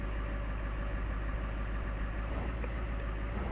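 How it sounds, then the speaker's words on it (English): A vehicle engine in a Farming Simulator 17 mod running with a steady, even low drone, heard alone with no voices. "once you start up the engine, you can see the RPMs jumped up there"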